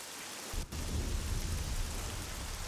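A storm at sea roars with steady, loud rain and deep thundering rumble, a brief dip just after half a second before the downpour surges back and holds dense and continuous to the end.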